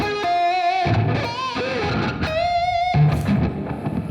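Electric guitar played with fuzz distortion in a lesson, loud sustained fuzzy notes and bends with short gaps between phrases, heard alone.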